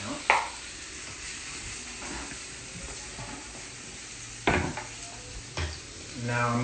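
Steaks sear in a hot pan with a steady close sizzle and hiss, broken by a few sharp clanks of a pan or utensil.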